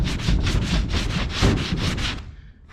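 Close, rhythmic back-and-forth scrubbing on a sign coated in aerosol patina, about nine quick strokes in a steady rhythm before it trails off.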